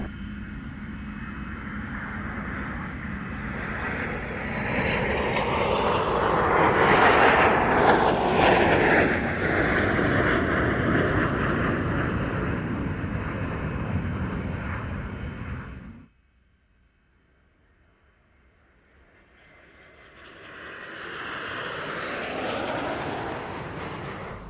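A loud classic military jet roars overhead at an airshow in Sweden with a broad, rushing engine sound that swells and fades, then cuts off before a second, fainter jet rises in the distance.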